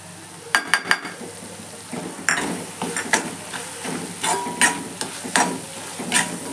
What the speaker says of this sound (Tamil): இப்போ இந்த மிளகாத்தூள் பச்சை வாசனை போகிற அளவுக்கு ஒரு 2 நிமிஷம் நல்லா வதங்கட்டேன்